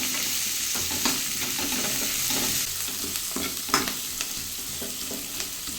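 Onions fry in hot oil for an egg curry, hissing in a dense continuous sizzle while a spoon stirs and scrapes the pan, giving scattered clinks and a couple of sharper knocks; close and fairly loud, with no voices.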